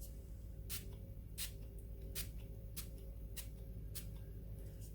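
Six short hissing spritzes from a spray bottle of water during rubber stamping craftwork, fired at a steady pace about every half second, close by over a low constant hum, with no talking.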